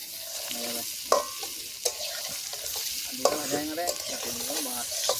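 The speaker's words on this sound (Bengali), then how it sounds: "চলো ভালো করে ভেজে নেবো বেশি তেল দিই নাই অল্প করে তেল দিয়েছি" Potatoes frying in a little oil for Kashmiri aloo dum in a village kitchen, with a soft steady sizzle broken by sharp spatula scrapes and knocks, close but fairly quiet, and a faint tonal voice-like murmur in places.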